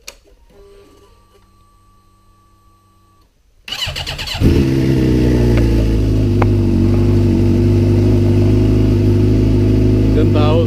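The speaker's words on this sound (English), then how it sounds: "Let's see if I can start this thing up here quick." A Suzuki GSX-R motorcycle engine starts after a quiet stretch with a faint whine, catches abruptly and then settles into a loud, steady idle and rev close by.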